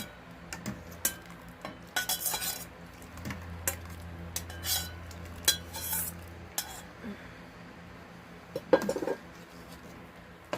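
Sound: stirring curry in a pot

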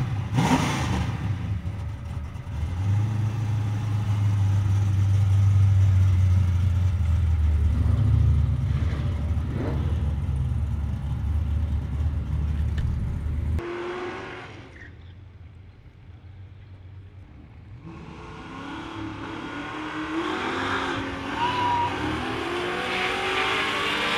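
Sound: flat black Chevrolet Nova drag car staging and racing at dragstrip

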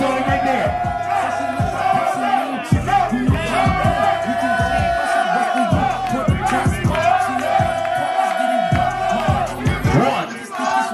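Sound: audience applauding and cheering at a ball battle

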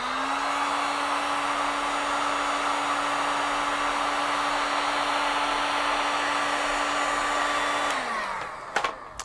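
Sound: heat gun blowing hot air onto a thermocouple

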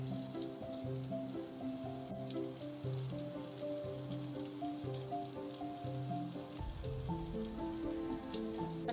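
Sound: spicy egg mini omelette frying in a pan

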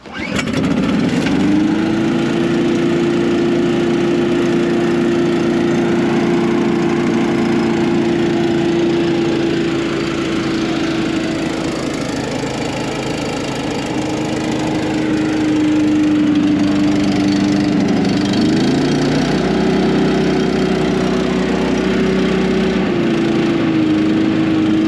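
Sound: Ditch Deal gas leaf vacuum engine running

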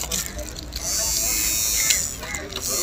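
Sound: electric hair trimmer running

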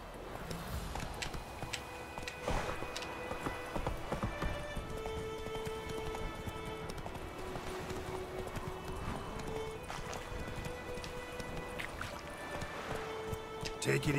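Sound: horse Roach galloping, from video game The Witcher III

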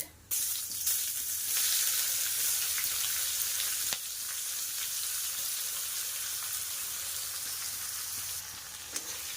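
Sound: chopped onions frying with whole spices

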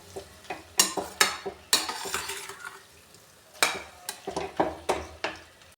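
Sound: stirring cauliflower sabzi in a pan

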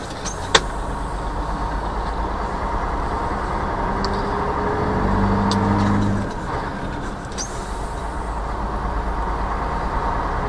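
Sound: truck driving, heard from inside the cab

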